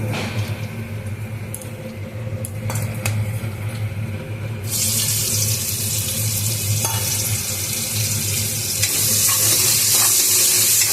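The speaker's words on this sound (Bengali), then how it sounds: "এবারে আমি গোটা গরম মশলা ফোড়ন দিয়ে দেব।" Whole garam masala spices sizzle in hot oil, a loud, steady hiss that swells partway through and holds, close up with no talking.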